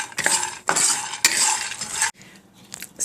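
Unsalted peanuts with a pinch of salt stirred in a pan or bowl: loud bursts of rattling, scraping and clinking in several sweeps, then a brief quiet pause and another short rattle.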